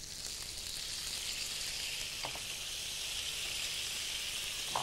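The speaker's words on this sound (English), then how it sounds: "makes it sizzle when you add the wine" White wine poured into a pan of chicken frying in olive oil and butter sets off a steady, bright sizzle and hiss, close and continuous with a few faint stirring clicks.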